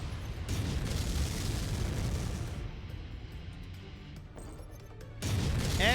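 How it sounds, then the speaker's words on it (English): Missiles striking a Centurion mech in MechWarrior 5, heard as a continuous loud rumbling barrage of blasts that eases off for a moment before surging again. "We're just going to keep hitting the Centurion with missiles for now."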